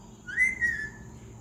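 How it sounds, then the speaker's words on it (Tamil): A pet parrot gives a short, clear two-part whistle that rises and then holds, fairly close and alone against a quiet room. "அழகாக இருக்குது விசில்"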